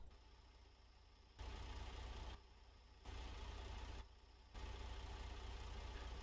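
A low, steady truck engine idle in Euro Truck Simulator 2 rumbles throughout, its level stepping up and down in distinct blocks, with no voices.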